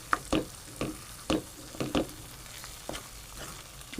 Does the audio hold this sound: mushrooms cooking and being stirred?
yes